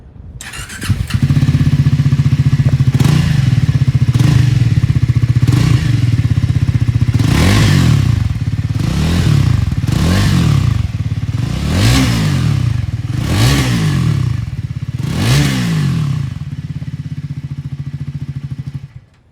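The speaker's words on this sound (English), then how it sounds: "let's listen to what this 398cc engine sounds like" Triumph Speed 400 motorcycle with a 398cc engine idling steadily, then revved in a series of about six sharp throttle blips, close and loud, with no talking.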